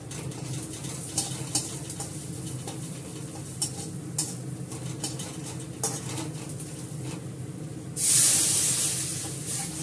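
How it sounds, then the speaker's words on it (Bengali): Fenugreek seeds dropped into hot oil after onions were fried golden, bursting into a sudden loud, bright hiss near the end that slowly fades, preceded by a low, steady kitchen background with occasional soft clicks. "মেথি ফোড়ন দিলাম।"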